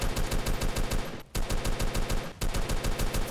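Rapid automatic gunfire in a video game base battle, loud continuous bursts with a steady rhythm, broken by two brief pauses, with no talking.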